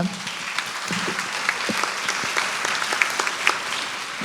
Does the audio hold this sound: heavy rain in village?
no